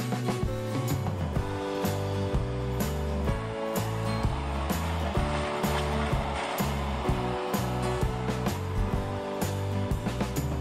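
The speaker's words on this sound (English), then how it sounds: "Solar panel, running the fan, full of ice." A small solar-panel-powered fan runs inside a homemade styrofoam ice cooler, giving a steady humming whir with a faint tonal buzz and light irregular clicks throughout, with no talking.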